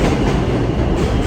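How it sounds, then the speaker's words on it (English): A New York Manhattan-bound 2 subway train runs into a station, heard as a loud, continuous rumble and clatter of wheels on rails from close by. Nobody speaks. "We're on the train running in right now."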